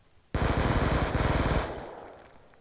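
Sustained automatic gunfire from the Black Ops 2 video game erupts abruptly as one loud, rapid burst lasting over a second, then trails off into a fading tail.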